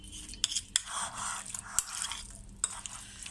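A spoon stirring chicken tikka ingredients, damp mixture in a bowl, giving soft scraping and clinking sounds with a few sharper taps, close and fairly quiet, with no talking.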